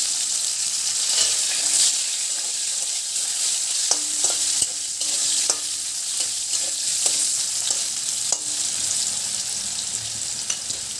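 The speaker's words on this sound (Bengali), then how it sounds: "জিরেটা যখনই ফুটতে শুরু করবে, এবার আমি আলুগুলো দিয়ে দেবো।" Cut potatoes fry in hot oil with cumin seeds, a loud continuous sizzle and crackle close by, broken by scattered sharp clinks and scrapes of a spatula stirring against the pan, with no talking.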